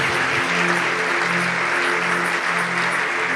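A church congregation applauds the Lord together at the end of a sermon, dense steady clapping mixed with cheering voices and a sustained held tone.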